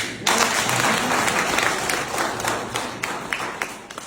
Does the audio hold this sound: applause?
yes